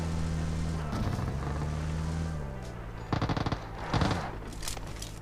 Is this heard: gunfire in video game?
yes